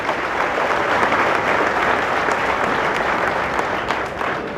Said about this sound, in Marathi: सर्वप्रथम जोरात टाळ्या संजय भाऊ विभूते आणि त्यांच्या टीम साठी झाल्या पाहिजे.